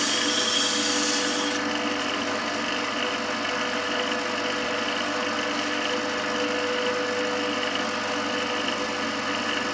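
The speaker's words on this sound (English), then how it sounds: "you're just helping the finish with the sandpaper" Sandpaper rubs against a wooden pen turning on a lathe, a steady close whirring drone with a brighter scratchy hiss in the first couple of seconds, with no talking.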